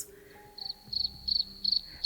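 Crickets chirp in short repeated pulsing bursts, a steady high trill returning about every third of a second, fairly close and clear over a quiet background.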